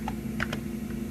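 A few soft, scattered key taps on a Macintosh SE keyboard as a command is typed, heard close over a steady electrical hum.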